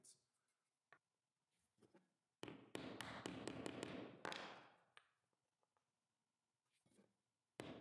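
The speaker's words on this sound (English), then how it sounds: "I used an extra piece with a mortise on the end to tap the joints closed." A spare wooden block with a mortise cut in its end taps glued mortise-and-tenon joints closed on handmade wooden cabinet pulls. A quick cluster of sharp, close taps comes mid-clip, framed by faint scattered handling knocks in a quiet workshop.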